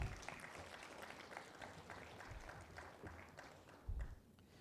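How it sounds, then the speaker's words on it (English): Audience clapping continues at a regional business forum, a sustained patter of many hands that tapers off toward the end, with a thump near the close. "Another big round of applause for Etienne"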